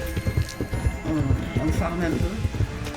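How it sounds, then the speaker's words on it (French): A horse gallops in the video game Star Stable, rhythmic hoofbeats drumming steadily beneath a person talking over the game audio. "j'entends le cheval galoper"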